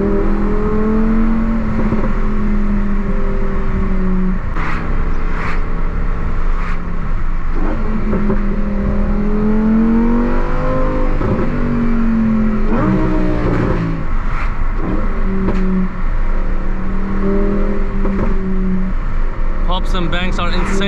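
A Lamborghini Huracan STO on the road, its engine droning and rising and falling through several revs under continuous close talking from the driver.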